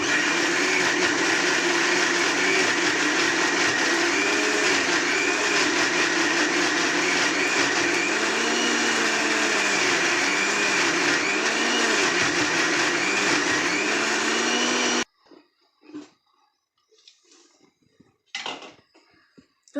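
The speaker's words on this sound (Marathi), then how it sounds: "अजून थोडं आता दळून घ्यावं लागेल ते" Electric mixer grinder grinding a lemon mixture for lemon murabba, a loud steady whirring drone with wavering pitch that runs for about fifteen seconds, then stops, leaving faint clatters and a brief knock.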